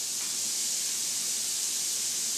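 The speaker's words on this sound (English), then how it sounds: "Oh, listen to that sizzle." French toast sizzles in a hot frying pan, a steady, close, even hiss of frying that runs unbroken without any talking.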